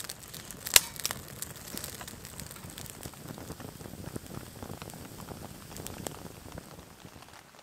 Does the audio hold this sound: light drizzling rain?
yes